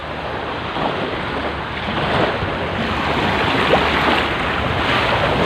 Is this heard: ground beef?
no